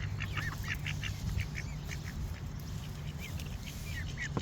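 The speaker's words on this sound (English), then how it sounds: "Because the duck and the pigeon." Ducks quack in short bursts in a park, with a goose present, fairly faint over steady outdoor background noise while people talk quietly nearby.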